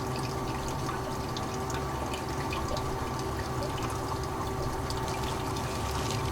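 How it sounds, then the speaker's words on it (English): Water running steadily through a Goldrop gold recovery machine, a constant faint rushing and trickling flow with a low pump hum underneath, no talking. "I'll turn up the mixed water a little bit too."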